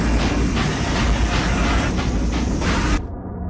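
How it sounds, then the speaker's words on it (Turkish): Train in GTA Vice City, running loud and steady with a dense rumble and rhythmic clatter of wheels for about three seconds before cutting off abruptly, no talking over it. "Tren sıkıştı."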